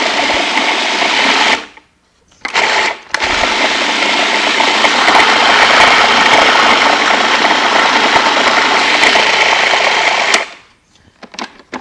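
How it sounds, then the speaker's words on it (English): Blender whirs loudly as it purees basil with olive oil, running in a steady high-pitched roar, cutting off briefly, starting again, then stopping. "we're gonna blend, so loud noises for a second"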